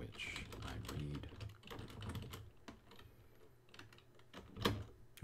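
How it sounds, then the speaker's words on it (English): Loud, rapid typing on a computer keyboard, close up, with irregular clicking keystrokes and occasional sharper taps, plus faint voice in the background. "I'm sorry about the typing loudness"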